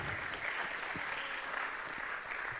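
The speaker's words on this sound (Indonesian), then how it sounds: "beri tepuk tangan sekali lagi untuk para narasumber kita" Soft, steady applause from an audience thanking the speakers at a talk event, a faint continuous patter of clapping heard throughout.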